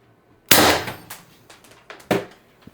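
An HPA-powered airsoft gun running on an 800 psi output tank fires a sharp, loud pop, followed by a fainter secondary report a moment later, in a quiet room.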